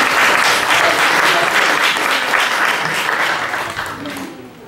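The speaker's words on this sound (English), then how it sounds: "Let's give them a round of applause." A Catholic church congregation at Sunday Mass claps together, a thick sustained round of applause that stays loud and even before slowly tapering off near the end.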